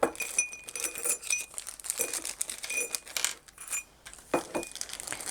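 Metal D-rings for a small cross-body bag clink and jingle while handled, with crinkling of packaging mixed in; close, irregular bursts with no talk.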